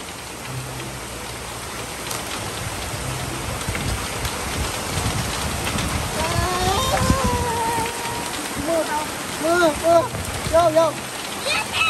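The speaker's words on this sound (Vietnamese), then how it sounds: "Mưa." Steady rain patters and hisses throughout, with low rumbles underneath and voices or tonal sounds rising over it in the second half.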